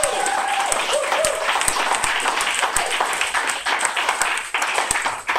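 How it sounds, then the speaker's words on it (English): A crowd claps steadily throughout, a sustained round of applause with scattered sharper individual claps standing out. "A round of applause for Mitchell and for Tom as well."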